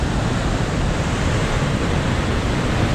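Ocean waves at Foz in Porto, Portugal, a loud, steady roar of surf filling the whole stretch without a break, close to the microphone, with no voices.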